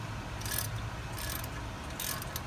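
A ratchet wrench with an extension loosens a 10 mm bolt during rear wheel bearing work on a 2004 Pontiac Grand Prix, giving three short bursts of close, crisp clicking over a low background rumble.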